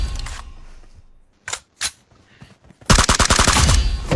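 Apex Legends gunfire: a few sharp single shots separated by gaps, then a loud rapid automatic burst of close, crackling reports.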